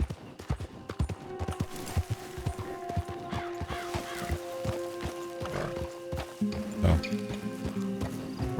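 Rhythmic clip-clop of horse hooves in the video game Red Dead Online plods along steadily, with a brief whinny and a soft vocal exclamation.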